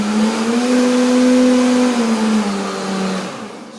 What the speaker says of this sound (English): when the blender is full, especially like this one, I need 1 more blending